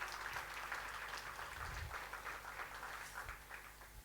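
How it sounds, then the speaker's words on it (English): An audience applauds singers at a live event, a steady wash of clapping heard faint and distant throughout. "Let's give them another round of applause, please."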